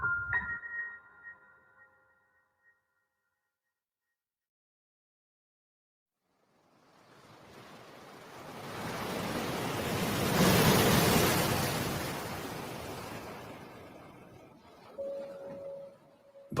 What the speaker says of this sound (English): Too meager to slow even the gentlest of waves.